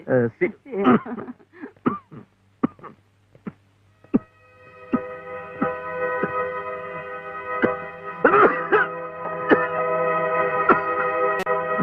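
Several short, harsh coughs and throat-clearing bursts come first, followed by a sustained steady tone with more coughing mixed in.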